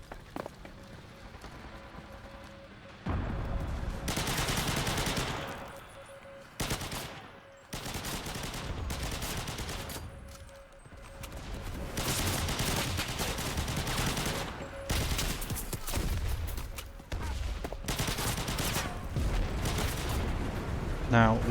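Bursts of PPSh-2 submachine gun fire in the video game Enlisted, loud rapid automatic volleys repeating in short strings with brief pauses, mixed with other battle noise and talk over the top.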